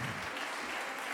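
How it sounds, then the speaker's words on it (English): Quick round of audience applause for hardworking volunteers at a live-streamed AI Impact Alliance event, a steady dense patter of clapping filling the short moment at moderate level. "je voudrais avoir juste une petite main d'applaudissement rapide pour mes bénévoles qui travaillent fort"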